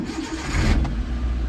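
A Maruti Eeco van's engine turns over on the self-starter and catches, a loud, close cranking burst settling into a running engine hum, with no talking.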